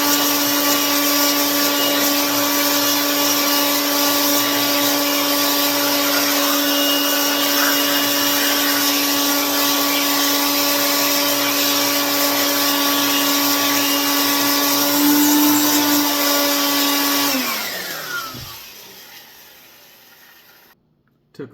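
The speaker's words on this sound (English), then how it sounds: "and then again with the blower" Air blower blowing out a Glock pistol during cleaning, a loud steady high-pitched whine lasting most of the time, then winding down and trailing off near the end.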